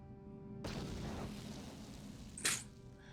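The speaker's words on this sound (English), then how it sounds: "Throw a grenade!" A grenade blast in Knights of the Old Republic: a sudden broadband burst that hangs on as a rumbling roar, followed by a short sharp crack near the end, fairly loud against the game backdrop.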